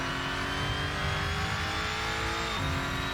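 Lotus Evora GX racing at Chang in Assetto Corsa, its engine droning loud and steady, then dipping in pitch as it brakes near the end.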